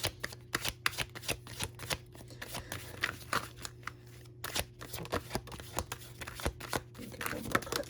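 Tarot cards shuffled close up in a rapid, continuous run of crisp riffling and slapping, with a steady low hum in the background and no talking.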